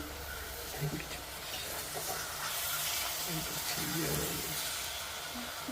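Kerala-style meen peera, a fish dish, being stirred in a pan over a low flame, with a soft scraping stir under a faint steady sizzle while someone talks.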